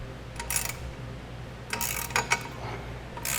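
Bolts on a side step being snugged up on a 2001 Dodge Ram pickup, faint mechanical clicks and ratcheting bursts at close range, quiet and intermittent.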